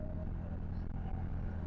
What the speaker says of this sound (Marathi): गाडी येते